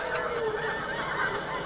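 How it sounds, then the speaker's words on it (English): Geese honk while flying high overhead, a flock giving several overlapping nasal calls at moderate distance against a steady background. "Them geese are sure flying high."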